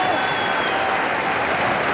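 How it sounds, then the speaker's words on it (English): Boxing crowd at the Marcos Villasana vs Paul Hodkinson fight, applauding and roaring steadily after a round, a dense, loud wash of clapping and cheering with no pauses. "the crowd really reacting to that"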